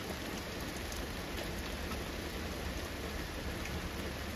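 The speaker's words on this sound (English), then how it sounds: "Just nice, gentle rain." Steady, gentle rain falling continuously, a soft even hiss with no breaks, fairly quiet and close by.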